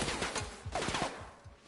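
Rapid gunfire from The Outer Worlds video game fighting a swarm, a dense fusillade of close, overlapping shots crackling steadily throughout with no talking.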